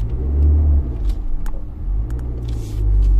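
A car pulls away on an uphill slope, moving from brake to accelerator at the clutch's biting point. Its engine gives a steady, close, low rumble that swells as it drives off.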